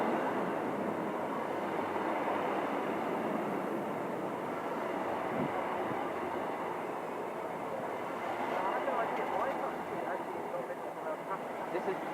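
A train rumbles through Ipswich station on the Great Eastern Main Line, a steady broadband roar of wheels and engine holding at near-constant loudness across the clip with no talk over it.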